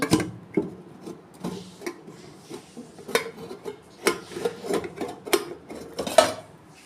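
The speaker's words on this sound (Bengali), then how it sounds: "দেখুন বন্ধুরা আমি এবার ঢাকনা খুলছি" Metal lid lifted off a pot of steamed hilsa fish after cooling, giving a run of light clinks and clatters of metal and utensils at close range, irregular taps spread across the moment with no talk.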